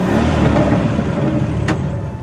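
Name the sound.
car pulling up and parking outside the manor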